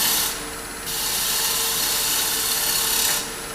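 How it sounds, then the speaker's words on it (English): Wood gouge cutting on a lathe, its short side blending the turned surface in one loud, close, continuous scraping hiss of about three seconds, with no talking. "now I'm going to use the short side of that gouge to come back to blend that"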